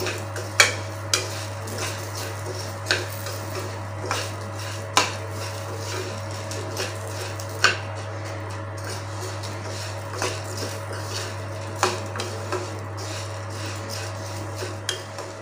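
Toor dal with garlic and tamarind dry-roasting in a pan, sparse spoon taps and scrapes against the metal every second or two over a constant low hum, fairly quiet and close, no speech.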